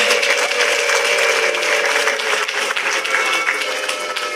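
A crowd at a jubilee celebration breaking into sustained applause mixed with high, wavering ululation, loud and dense throughout, with the cheering voices blending into the clapping.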